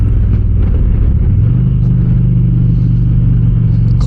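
An Indian Challenger motorcycle engine rumbles steadily while riding, a close, loud low grunt that swells slightly as the throttle opens.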